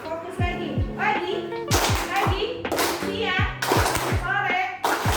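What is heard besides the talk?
children clapping hands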